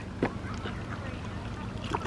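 Ducks at a pond being fed quack and honk intermittently, with a couple of short nearby calls over a steady outdoor background of water and ambient noise.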